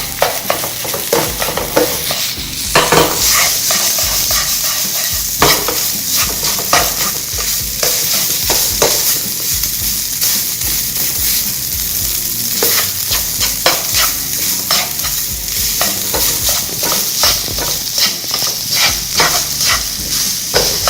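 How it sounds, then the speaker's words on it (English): Fried rice sizzles loudly in a hot pan while being stirred continuously, with repeated scraping and clanking of a utensil against the metal over a constant frying hiss, no voices. "Now we're going to keep stirring it."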